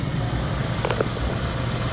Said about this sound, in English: the engine will stay running until I turn it off